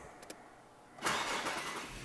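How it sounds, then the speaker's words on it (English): A car engine cranks and catches after a fingerprint-activated push-button start, rising into a steady loud idle after a short quiet pause with a couple of faint beeps. "Now try to start it. Push the button."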